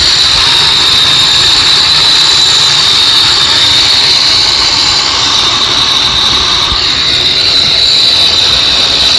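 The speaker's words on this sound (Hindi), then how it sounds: "कैंची को तेज़ कर रहे हैं। काफ़ी तेज़ ये चलती है" An old bicycle-wheel-driven desi machine sharpens scissors and throws sparks, producing a loud, steady high-pitched grinding whine that holds unbroken and close for the whole stretch, with no voices.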